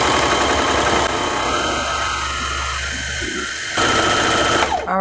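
Brother Airflow 3000 serger stitching and trimming fabric, a loud, continuous close-up whir of the machine running steadily throughout, briefly easing in pitch midway before revving back up, with no talk.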